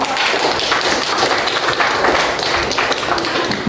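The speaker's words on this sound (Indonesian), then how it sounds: "beri tepuk tangan untuk kelompok" Schoolchildren in a classroom lesson on sacrificial animals applaud a group, giving a dense, steady wash of close hand claps that runs throughout and stops abruptly at the end.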